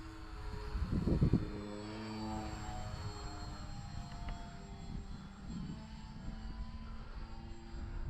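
An RC model airplane flies at partial throttle, its engine a faint, steady drone from some distance with a brief louder rush near the start, and no talk.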